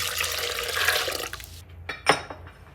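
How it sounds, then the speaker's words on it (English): Hot scalding milk is poured into a bowl over sugar and salt, a steady liquid splash that stops partway, followed by a few brief clinks and drips. "pour the scalding milk over top of that"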